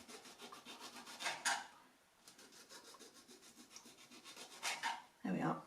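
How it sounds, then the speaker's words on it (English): A serrated knife saws around the peel of an orange in repeated rasping back-and-forth strokes, close and fairly quiet, with a short pause midway and a louder scrape near the end. "with a sort of sawing action with your serrated knife."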